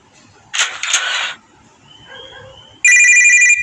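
Telephone ringing in a video game, a loud electronic ringtone that cuts in near the end after a couple of short sharp noises and quieter game sounds.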